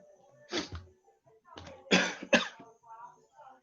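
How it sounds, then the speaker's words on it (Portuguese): Several short, loud coughs in a quiet indoor setting during an online meeting, one early and a closer pair around the middle, followed by faint voiced sounds. "Fui eu tossindo."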